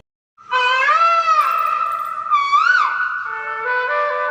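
In a village in the early morning, a peacock lets out a loud, near, scream-like call that rises and bends in pitch, sustained for several seconds.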